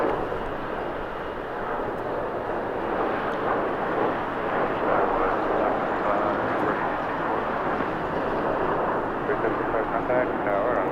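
Jet airliner taking off from runway 25 right at Los Angeles International Airport, a broad steady engine roar that stays loud and constant throughout, without any talk.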